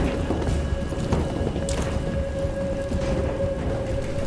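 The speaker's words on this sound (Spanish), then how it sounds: "qué rico la lluvia" Rain falls in the video game Detroit: Become Human as a steady, moderately quiet hiss with soft patters and occasional faint rumbles throughout, and no voices.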